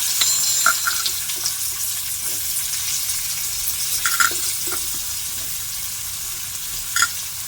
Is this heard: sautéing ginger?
yes